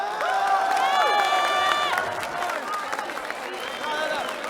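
Crowd cheering and applauding at a Counter-Strike LAN final, a broad wash of claps and shouts with rising whistles and cries, loud and sustained before easing slightly toward the end.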